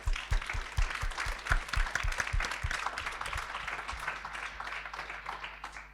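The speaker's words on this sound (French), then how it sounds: "on va vous applaudir parce que bravo" Audience at a mountain agriculture conference bursts into applause, a dense wash of many hands clapping that starts strong and slowly thins toward the end, with no talking over it.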